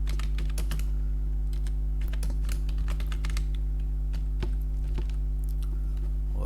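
Entries being typed into a spreadsheet for school student records on a computer keyboard, rapid uneven bursts of close key clicks over a steady low electrical hum, no talking.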